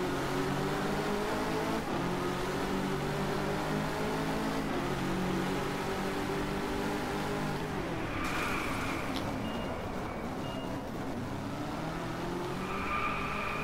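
Peugeot Onyx Concept car in DRIVECLUB, its engine droning steadily with shifting pitch and occasional tire squeal, loud and continuous with no talk.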